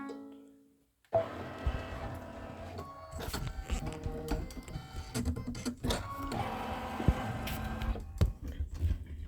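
A sewing machine stitches pieced star blocks for an autumn quilt with linen thread, running steadily and loudly for most of the stretch after a brief quiet start, with rattling mechanical texture and short pauses.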